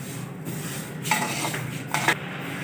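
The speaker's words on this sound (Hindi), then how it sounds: "चम्मच चलाते हुए अलसी को अच्छी तरह से भून लेंगे" Flax seeds dry-roasting in a pan while a spoon stirs them, giving a soft continuous rustle with two sharper scrapes of the spoon against the pan.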